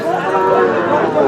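Sahiwal cattle at a livestock market in Bangladesh give a single loud, close, drawn-out moo that fills the whole moment, with no talk over it.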